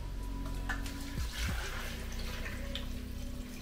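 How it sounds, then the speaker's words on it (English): Water poured into a big pot for a Cajun seafood boil, a steady rushing pour running throughout at close range with a brief gurgle near the middle, no talking. "Let's go ahead and place that water right in there."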